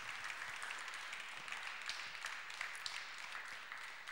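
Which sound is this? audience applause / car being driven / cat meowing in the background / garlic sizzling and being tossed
audience applause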